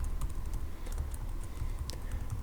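Quick, light keystrokes on a computer keyboard while entering a source name in a SpeakerCraft audio system setup, a steady run of soft close clicks with no voices.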